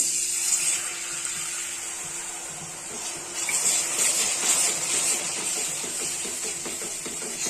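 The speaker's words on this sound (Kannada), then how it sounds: "ಈಗ ನಾನು ಸ್ವಲ್ಪ ನೀರು ಹಾಕ್ತಾ ಇದ್ದೀನಿ" Water is poured into a hot pan of wheat flour fried in ghee for halwa, giving a steady loud hiss and sizzle that swells midway and continues without talk.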